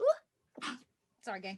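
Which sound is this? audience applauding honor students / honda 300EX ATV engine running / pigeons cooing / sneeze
sneeze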